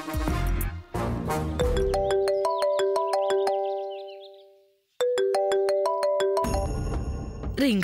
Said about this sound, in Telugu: రింగ్ అవుతున్న ఫోన్ తీయట్లేదేంటి?